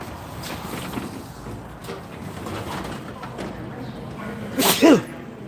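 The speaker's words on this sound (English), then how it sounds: "I'm sneezing." A single sharp sneeze bursts out near the end after a stretch of quiet room noise, loud and close.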